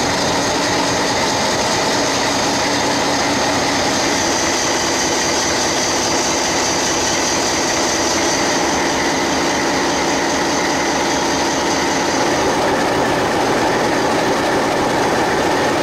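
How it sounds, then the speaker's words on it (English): A loud, steady English Electric diesel locomotive engine roar fills the engine room continuously, with dense mechanical rumble and clatter heard up close from inside. "A rare capture of DG772's engine at work from inside the engine room."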